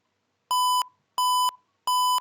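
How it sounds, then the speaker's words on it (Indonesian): A buzzer on a distance-sensor circuit sounds three evenly spaced electronic beeps, each about a third of a second long, steady in pitch, close and clear, with silence between them. "hal ini seharusnya akan menghasilkan output yaitu berupa buzzer yang berbunyi"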